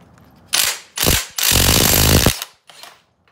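A ratchet wrench works on a 22 mm nut on a Yamaha YFZ450 engine, sounding as three loud close bursts of rapid clicking, the third longest, then a fainter short rattle.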